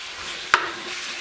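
Pork pieces fry in oil in a well-scratched pan while a wooden spoon stirs, a steady close sizzle broken by one sharp scrape or clack of the spoon midway.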